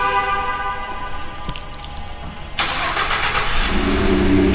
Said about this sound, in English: Let's see if she cranks up.